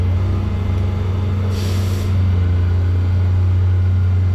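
A brand-new hoof trimming wheel cleans out the white line of a cow's hoof, its motor holding a loud, steady low drone, with a short harsher grinding burst near the middle.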